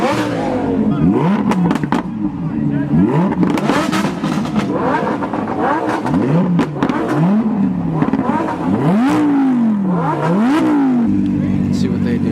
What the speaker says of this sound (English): It's a rev off over here.